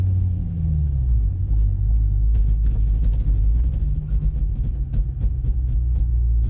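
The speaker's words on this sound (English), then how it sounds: "or the tires actually skid across the ground. It gets very notchy." A C6 Corvette Z06 creeping through a slow U-turn, its tires skidding and bumping in a series of faint, irregular clicks and thumps over a steady, loud low engine and cabin rumble.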